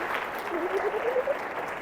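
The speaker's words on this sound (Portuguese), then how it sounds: "Uma salva de palmas para a Fran." Audience applause at a live talk in Serra Gaúcha, a steady wash of clapping that holds evenly through the short moment, with a faint rising whistle-like tone partway through.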